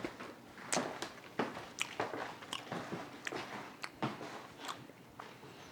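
Homemade smoked bacon being eaten up close: a run of crisp bites and moist chewing clicks repeats in an irregular rhythm, quiet and without talk.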